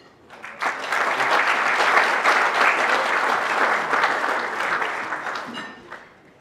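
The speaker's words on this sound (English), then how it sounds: "So one more round of applause for Rachel" Audience applause after a dinner panel discussion: dense, sustained clapping from a crowd that swells quickly, holds steady for about five seconds, then tapers off.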